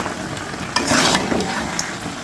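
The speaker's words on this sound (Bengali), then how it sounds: "এইভাবে আমি নেড়ে চেড়ে একটু কষিয়ে নেব।" Fish head and mung dal being stirred and sautéed in oil in a pan: a continuous sizzle with scraping from the stirring, and a louder burst of frying partway through, with no talking.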